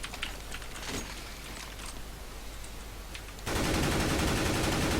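An automatic rifle sprays in a shooter game, M4 or AK, in rapid bursts of shots. A dense, louder stretch of continuous fire comes toward the end.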